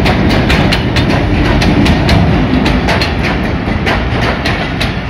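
Train pulling into Gujrat railway station, led by locomotive 8306 PHA-20 on the Peshawar-to-Quetta service, with loud steady rolling rumble and a regular clickety-clack of wheels over rail joints throughout, up close and without talk.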